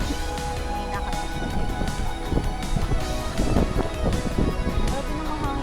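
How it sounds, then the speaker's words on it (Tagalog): Strong wind buffets the microphone in heavy, uneven gusts, a loud rushing roar with low thumps throughout. "Grabe na mahangin dito."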